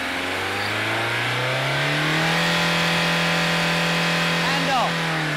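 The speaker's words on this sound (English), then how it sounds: "take the engine speed right up to maximum to prove that the governor is functioning" A 1.9 TDI diesel engine in an Audi 80 revs up steadily to maximum speed during an inspection, its pitch climbing and then holding at a loud, sustained drone near the microphone.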